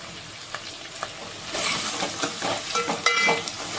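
Green chilies frying in a pan with coarse rock salt and turmeric give a steady close sizzle, with stirring scrapes and louder crackling bursts in the second half.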